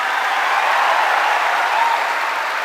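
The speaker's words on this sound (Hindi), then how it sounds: "प्लीज इतनी जोर से तालियां बजाना इन सबके लिए कि ये पूरा स्टेडियम मिल जाए" A stadium crowd applauding, a dense, even wash of clapping from many hands that holds steady throughout with no voices.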